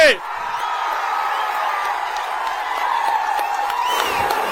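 A crowd at a political rally cheers and claps, a dense, sustained roar of voices and applause that keeps steady and loud throughout with scattered sharper claps on top.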